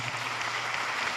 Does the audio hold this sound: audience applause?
yes